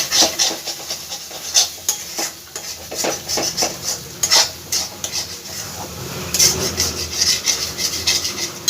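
A spatula scrapes and stirs spices frying in a pan for masoor dal dhokar dalna, with repeated metallic scraping and clinking strokes at close range.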